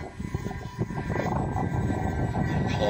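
An electric RC model of a 1935 Handley Page Heyford biplane flying nearby, a continuous buzzing motor drone with gusty wind rumble, fairly loud and steady.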